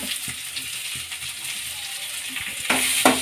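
Onions fry in hot oil with curry leaves and green chilies for a macaroni pasta dish, giving a steady close sizzle with occasional stirring clatter and a louder burst of crackling near the end.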